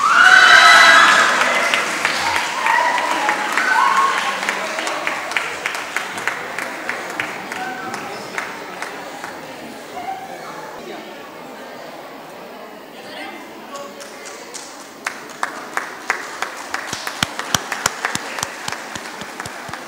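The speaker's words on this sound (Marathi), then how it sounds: "टाळ्या वाजवा." Loud clapping from a school audience at a group Sanskrit competition, starting dense and strong, then thinning out and fading into scattered claps toward the end.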